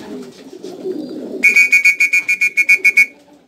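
Pigeons at a loft: low, soft murmuring gives way to a fast, evenly spaced run of about a dozen shrill pulsed calls, close and fairly loud.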